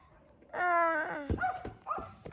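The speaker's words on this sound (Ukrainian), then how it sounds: "Аж сидить, гавкає вона." A dog gives a long, tonal whining bark followed by several shorter, sharper barks and yips, close and fairly loud, with no talk.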